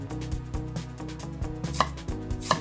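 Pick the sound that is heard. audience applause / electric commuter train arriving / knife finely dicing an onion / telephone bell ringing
knife finely dicing an onion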